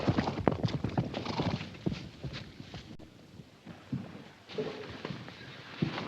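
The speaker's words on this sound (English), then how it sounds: "Damn them horses." Many hooves clatter in a rapid, uneven clip-clop as a group of horses runs past, with a faint whinny among the pounding.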